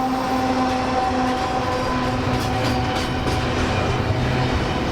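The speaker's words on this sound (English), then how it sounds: "Impressive how long the freight train is." A long freight train rumbles steadily past along a highway in British Columbia, Canada, a continuous loud roar with faint rhythmic clatter of wheels and a tonal hum, no voices.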